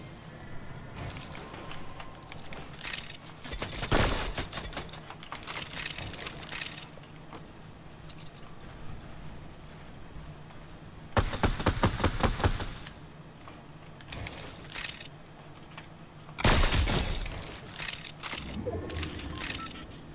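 Gunfire in the video game Fortnite, heard as repeated bursts of rapid shots, with three loud volleys standing out among quieter scattered shots and game sounds.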